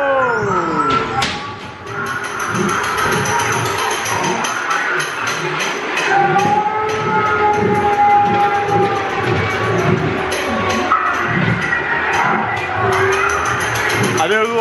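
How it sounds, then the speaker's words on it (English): A ghost train ride car rumbles and clunks along a track with rhythmic knocks, a steady whining tone, and faint voices in the background. "I do love the classic sound of the ghost train clunking round."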